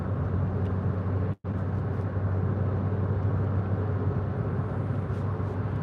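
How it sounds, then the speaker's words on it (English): Steady broadband roar of heavy road traffic, a continuous wash of passing vehicles with a low rumble, loud and unbroken except for a brief dropout partway through. "Wow, more traffic."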